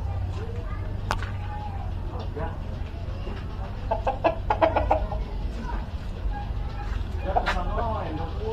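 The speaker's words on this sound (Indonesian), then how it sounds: "Ini ada ayam juga." Chickens cluck in a Jakarta residential alley, with short scattered calls near and far over steady low street hum and nearby talk.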